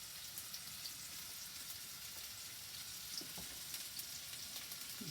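Onion and garlic fry in a pan, giving a steady, fairly quiet broadband sizzle that holds evenly throughout with a few small crackles and no talking.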